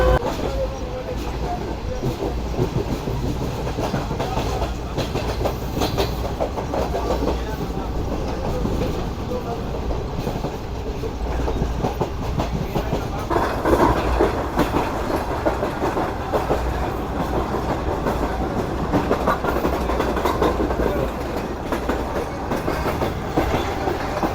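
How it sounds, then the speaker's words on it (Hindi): The Pak Business Express passenger train rolls by at a station on the Karachi to Lahore route, a steady loud rumble with wheel clatter on the rails, continuing throughout and swelling slightly midway. "ये आ रही पूरी पाक बिजनेस एक्सप्रेस"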